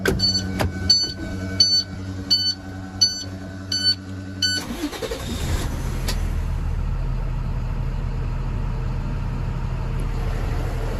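A 2019 International MA025 26-ft box truck: a few electronic beeps, then the engine turns over and settles into a steady, close, low rumbling idle that continues alone to the end.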